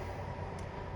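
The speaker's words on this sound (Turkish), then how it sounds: "Tren geçiyor." A train rolls past on nearby tracks, a steady low rumble with rail clatter holding even throughout one second, no voices over it.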